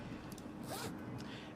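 The zipper on a computer bag is pulled in a short, quick rasping stroke, close and fairly quiet, with faint background noise and no clear talk.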